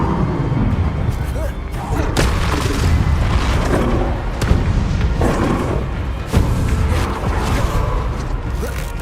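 Spell blasts go off in Hogwarts Legacy, repeated booming explosions and impacts layered over a dense, loud game soundscape of rumbles and mechanical clatter, with a voice shouting over the action.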